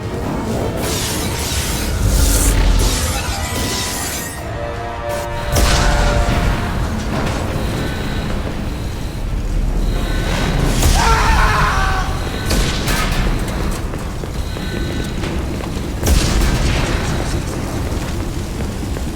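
Ship explosions rip through a vessel under attack in Mass Effect 2, with repeated heavy booms and bursts over a constant loud rumble of damage and alarms, swelling several times across the stretch.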